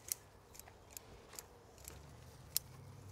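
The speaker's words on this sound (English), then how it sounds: "So I'm going to trim them all back, just trim them in a conical shape" Scissors snipping bonsai shoots into a conical shape, a series of about seven crisp, evenly spaced clicks close by, faint and alone in a quiet room.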